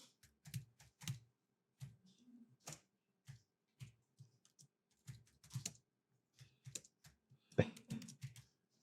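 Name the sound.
typing a title on a computer keyboard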